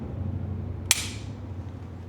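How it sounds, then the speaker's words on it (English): A Glock pistol dry-fires as its hammer drops, giving one sharp, close metallic click over a steady low room hum during a trigger installation. "Then I'm going to drop the hammer."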